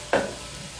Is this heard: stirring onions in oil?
yes